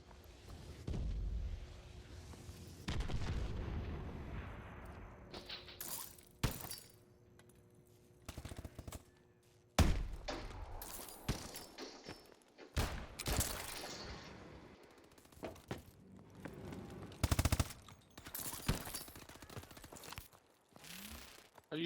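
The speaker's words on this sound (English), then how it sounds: "Enemy missile strikes incoming." Enemy missile strikes and explosions in the Call of Duty Advanced Warfighter video game, with repeated loud blasts, rumbling booms and bursts of gunfire over about twenty seconds of battle noise.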